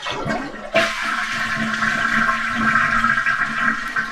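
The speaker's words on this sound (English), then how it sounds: "flush the toilet, keep it up a little bit until all the water comes out." An old, leaking toilet tank flushes loudly and close by: a sudden whoosh of rushing water settles into a steady gurgling drain that carries on to the end.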